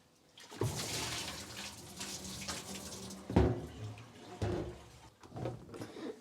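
Rinse water poured out of a mead-making vessel, a gushing, splashing stream that starts abruptly and runs for several seconds with a few louder glugs and splashes, close and clear.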